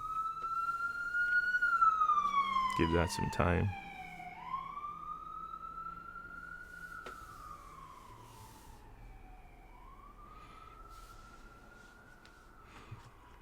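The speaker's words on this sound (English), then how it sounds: "We have sirens outside" A wailing siren outside, heard from indoors, sweeps slowly up and down, steady and fairly close, with a brief loud thump partway through and a short spoken phrase.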